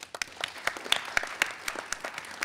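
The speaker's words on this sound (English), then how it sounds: "Let's have a special round of applause for the Bob Bullock Texas State History Museum." A quiz show audience applauds, scattered claps popping irregularly at moderate level, a thin, sparse round of applause rather than a dense roar, with no speech over it.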